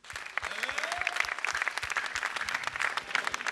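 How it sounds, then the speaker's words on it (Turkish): Audience applause for a Turkish orchestra on a live television music show, dense steady clapping from a crowd lasting throughout, moderately loud and close. "orkestrasına güzel bir alkış gelsin"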